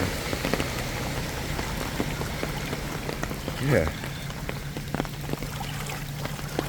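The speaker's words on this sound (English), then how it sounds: "this is the effect of the water coming down Park Gardens" Heavy rain and floodwater pouring down Park Gardens street, a steady rushing patter and splashing wash that runs continuously, with someone briefly speaking over it.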